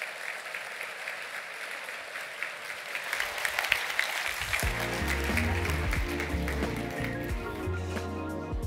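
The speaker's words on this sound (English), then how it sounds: "let's give one final round of applause to Monica for this fantastic achievement" Audience applause at a physics award ceremony honoring a prizewinner, a soft patter of clapping that grows fuller as music swells in underneath, fairly quiet and distant.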